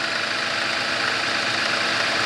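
A 2017 Genesis G80 3.3T-GDI Sport engine idling just after being started, a steady, loud, even hum with faint mechanical ticking underneath and no speech.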